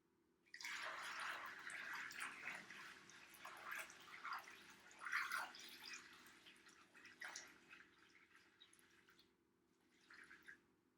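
Homemade jun tea is poured from a container into a keg, a close trickling and splashing stream that runs steadily with small dribbles and drips before tapering off at the end.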